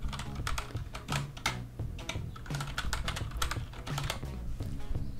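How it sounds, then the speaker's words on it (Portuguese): Keys tapped on a computer keyboard to enter a new password, a quick irregular run of close, crisp clicks with brief pauses, fairly quiet and with no talking. "Vou digitar minha nova senha aqui."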